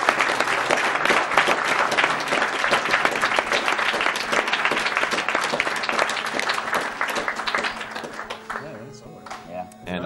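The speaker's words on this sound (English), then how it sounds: "you guys wanted to clap and didn't do it, so do it one more time" Sustained audience applause and clapping fills a speedrun charity event hall, loud and continuous for several seconds before thinning toward the end, with a voice talking over it.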